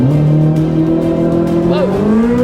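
A Chevrolet Corvette Z06 sports car launches hard down a drag strip, its engine rising steadily in pitch as it accelerates, loud and close throughout.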